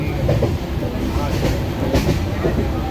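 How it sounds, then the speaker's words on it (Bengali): A moving local train rumbles steadily with a rhythmic clickety-clack of wheels over rail joints, a continuous loud interior din with no clear talk on top. "এখন লোকাল ট্রেনে উঠে গেছি"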